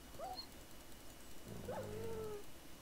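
A wolf-like dog in Minecraft's Feed the Beast modpack gives short whining whimpers, a brief cry near the start and a longer falling whine around the middle, faint over a steady low background.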